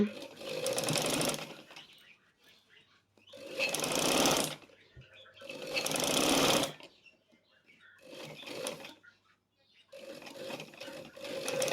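A sewing machine stitching pleats into a wrap skirt fabric, running in several loud, close bursts of rapid whirring stitches separated by pauses, with someone speaking softly in the gaps.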